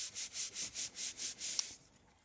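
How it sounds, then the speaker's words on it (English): Hands rub glued magazine paper flat for a collage, seven quick rhythmic swishing strokes close to the microphone before the rubbing stops. "I'm going to take my hands and rub"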